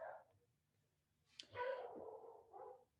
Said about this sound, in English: Can you guys hear my dog in the background